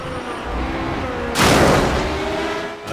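A sudden broadband crunch of a racing car colliding with the car ahead in Project Cars, loud over the steady engine roar and road noise that continues after the impact.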